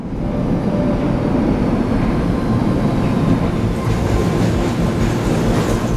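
A subway train heard from inside a metro car in a film trailer rumbles loudly and continuously, with rattling wheels, clattering rails and a faint metallic squeal, no voices.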